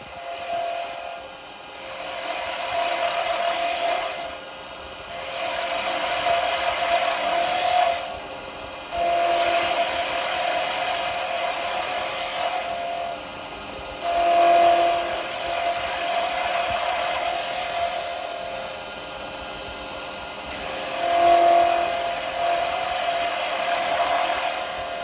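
A wooden Christmas tree spins on a woodturning lathe while a carbide tool makes gentle cuts, a steady whirring drone swelling into roughly five longer rasping passes, close and continuous.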